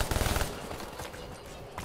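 Rapid automatic gunfire from an AI ally shooting zombies in Call of Duty Black Ops III, a loud close burst that quickly fades into game noise.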